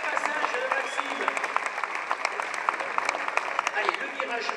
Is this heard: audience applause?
yes